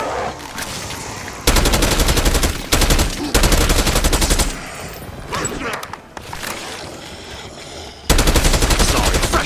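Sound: gunfire in the video game Call of Duty Black Ops 6

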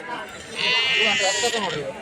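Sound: sheep bleating at a sheep market

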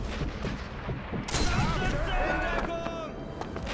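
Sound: anti-aircraft guns firing in video game Sniper Elite V2

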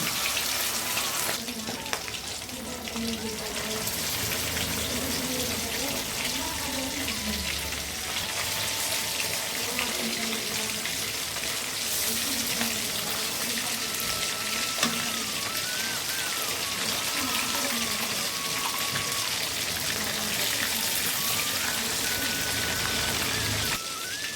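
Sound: fish frying in hot oil

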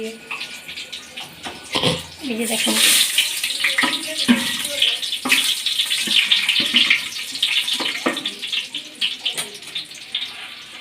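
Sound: hot water running from a tap

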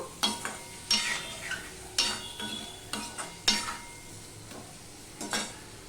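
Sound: stirring and sautéing tomato spice masala with prawns

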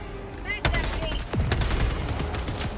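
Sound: sentry machine gun firing in a video game

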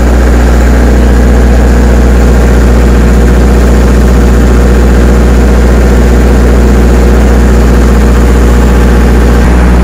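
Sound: large welding machine engine running

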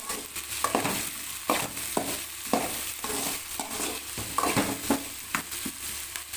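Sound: onions sautéing in a pan

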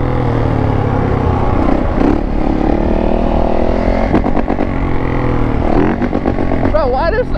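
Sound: Yamaha Raptor 450 quad engine revving

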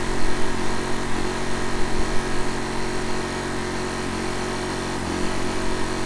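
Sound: generator engine running

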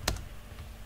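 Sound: typing on a computer keyboard

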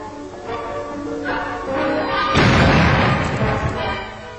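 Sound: bomb exploding on contact

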